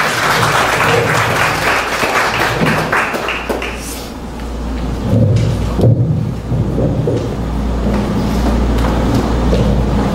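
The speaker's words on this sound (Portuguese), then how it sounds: "Uma salva de palmas para ele, que ele merece." Sustained applause from an audience at a spiritist lecture, a broad continuous wash of clapping that dips slightly midway and then swells again, filling the room for about ten seconds.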